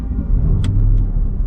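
A 2001 Mercedes-Benz S430 V8 cranks and catches, settling into a steady low rumbling idle up close, with a couple of brief clicks near the start.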